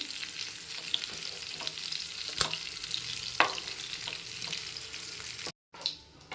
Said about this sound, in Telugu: ఇవి కొంచెం ఇటువైపు కూడా వేపేసుకుంటానండి